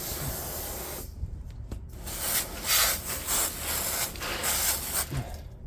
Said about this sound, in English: Spray this down a little bit.